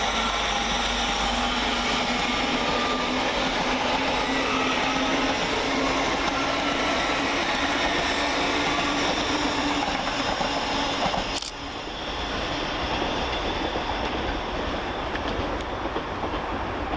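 LNER train 801.220, an electric multiple unit on an Edinburgh to London King's Cross service, pulls out of Peterborough station with a loud, close rolling roar and a clattering rumble; a sharp crack partway through is followed by a slightly quieter stretch.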